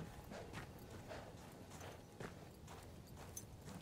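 Horse hooves clip-clopping at a walk in the World War I shooter Battlefield 1, a faint steady series of soft thuds over low ambient game noise.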